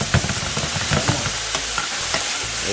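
Fish going into a simmering pot of Jamaican brown stew, with stirring and sizzling bursts of clattering utensil noise, fairly loud and close, fading to a softer simmer toward the end.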